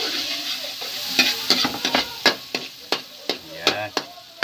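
Garlic sautéing in a pan, a close sizzle broken by repeated sharp scrapes of a spoon as it is stirred, the strokes quickening toward the end, no voices.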